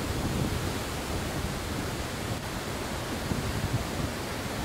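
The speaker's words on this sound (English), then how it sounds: "there's a lot of mist and wind here in the waterfall, of course." Broad, steady roar of a rainforest waterfall at Saltos de Jima in the Dominican Republic, with mist and gusting wind blending into a dense, constant wash of noise close by, no voices.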